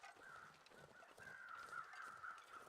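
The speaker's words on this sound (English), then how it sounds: "now that I can see the crows" Crows caw in The Long Dark, faint and distant in a quiet snowy wilderness. Several repeated harsh calls overlap in an uneven rhythm, with no voices.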